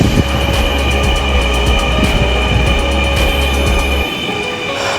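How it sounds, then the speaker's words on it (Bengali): A metro rail train arrives and runs, giving a loud continuous rumble with a low drone, steady wheel noise and faint squeals, then the low hum drops away near the end. "এই তো আমাদের ট্রেন চলে আসলো।"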